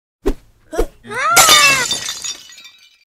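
Two sharp thuds lead into a loud, close burst of shattering glass, followed by a bright, tinkling spray of shards that fades away.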